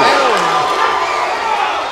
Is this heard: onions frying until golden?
no